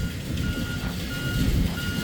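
Reversing beeps sound steadily from a truck manoeuvring around a trailer on a delivery run, with a continuous engine rumble underneath and no talking.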